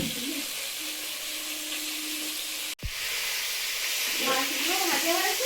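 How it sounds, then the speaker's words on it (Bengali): Fish frying in oil, a close, continuous hiss and sizzle with a sharp clunk in the middle, then bubbling crackle as the frying carries on and a faint voice in the background. "মাছগুলো ভাজা হয়েছে, তুলে নেবো।"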